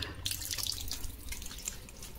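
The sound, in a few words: water running from a tap pipe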